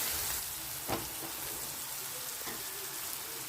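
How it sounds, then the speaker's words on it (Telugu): Onions frying with salt in a pan for a home-style mushroom curry, giving a steady close sizzle and crackle throughout with a couple of brief louder clicks or stirs, no talking. "తగినంత సాల్ట్ వేసుకొని బాగా వేయించుకోవాలి ఉల్లిపాయల్ని"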